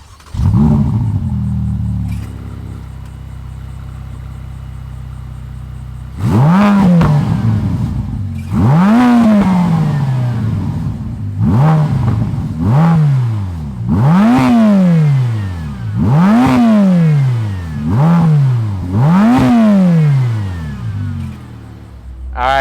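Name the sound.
Ferrari F8 Tributo Spider engine starting and revving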